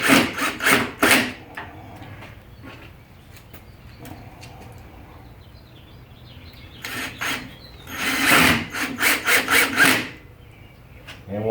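Screws being driven to mount hinges on wood come as bursts of rapid grinding, rasping rotation, one cluster at the start and a longer one near the end, separated by quieter handling.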